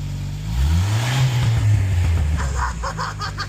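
Engine of a 1995 Jeep YJ revving on a hill, a low rising drone that climbs in pitch and holds steady, close and fairly loud, with a faint voice near the end.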